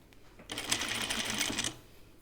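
A sewing machine runs for about a second, stitching a seam on a caftan dress: a fast, even mechanical whir that starts abruptly, holds steady and stops, with quiet room sound before and after.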